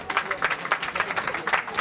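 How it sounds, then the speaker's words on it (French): A small audience claps at a talk on gender and self-confidence, a short burst of quick, uneven hand claps, close and moderately loud. "Mais je crois qu'on peut applaudir Gwep."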